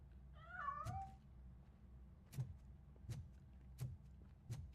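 Single drawn-out cat meow from the RoboCop: Rogue City video game, heard early and close, followed by soft scattered taps and footstep-like knocks over a low game background hum.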